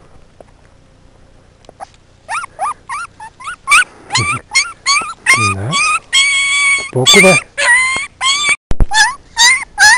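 A stray puppy in a Bulgarian village whimpers and yelps in a rapid string of high, thin cries, close and loud, with someone speaking softly between them and some handling noise.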